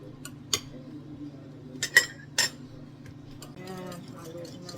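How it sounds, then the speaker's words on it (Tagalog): A wire whisk stirs a water mixture in a bowl, giving a few light, sharp metallic clinks and taps over a low background hum. "gamit tayo na itong wire whisk para mas madaling haluin"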